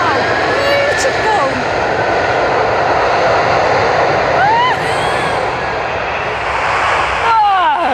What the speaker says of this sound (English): it's catching a lift on the strangest looking aeroplane you will ever see